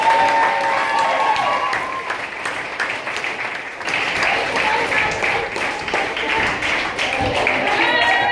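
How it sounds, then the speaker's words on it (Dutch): An indoor crowd applauding participants of a championship celebration, sustained clapping close and loud throughout, with a few voices mixed in among the claps. "En dan wil ik afsluiten met één groot applaus aan iedereen."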